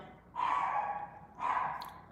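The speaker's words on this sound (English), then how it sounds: "maybe you'll hear Eddie barking" Two drawn-out barks or howl-like yelps from a dog, separated by a brief pause, moderately faint against a quiet background.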